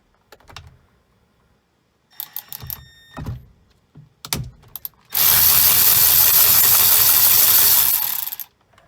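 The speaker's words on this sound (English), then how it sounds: "I'm using my Milwaukee electric ratcheting wrench" A Milwaukee electric ratcheting wrench backs out an airbag retaining bolt on a Toyota Corolla steering wheel: a few sharp clicks and metallic taps, then a loud continuous motor whir for about three seconds that stops abruptly.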